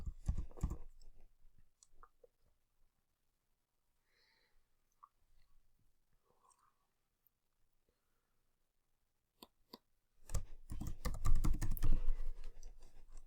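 Computer keyboard typing and mouse clicking while editing an opt-in page in LeadsLeap: a short burst of keys at the start, scattered faint clicks through a quiet stretch, then a long, dense run of loud typing at the end.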